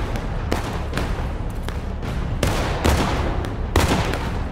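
Repeated booms of artillery and musket fire echo across a Civil War battlefield in War of Rights, a series of sharp reports at irregular intervals over a steady background rumble.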